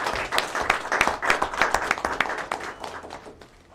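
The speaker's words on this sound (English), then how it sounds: "So congratulations, Honorable Minister, and you deserve a round of applause." An audience applauds at a ceremonial handover event honoring a government tourism minister, with crisp, close individual claps forming lively applause that gradually thins and fades out.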